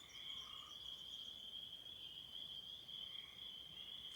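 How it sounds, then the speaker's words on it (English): Frogs croak in a steady, dense chorus near water in the woods, with a continuous high shrill trill running throughout at an even, moderate level; no birds stand out clearly. "that's frogs and birds at the same time."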